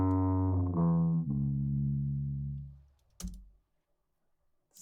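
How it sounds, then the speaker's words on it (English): An animation sound effect dropped an octave with automated elastic pitch, gliding downward in steps as a deep buzzy tone, then a short sharp burst and silence; no talking. "I pitched down the sound 1 more octave"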